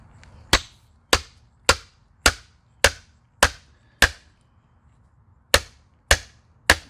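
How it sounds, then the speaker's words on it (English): Sharp, evenly spaced hammer blows strike a wedge splitting a log for spoon carving, eight hits in a row, a short pause, then three more, each crisp and close with quiet between. "So basically I'm just going to split it in half and then split it in half again."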